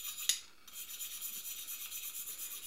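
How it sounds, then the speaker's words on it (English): A knife spine scrapes the coating off a fire steel in one short rasping stroke, followed by a steady hissing rub that continues close by, with nobody speaking. "like all fire steels, we want to go ahead and we want to scrape off the covering on this first"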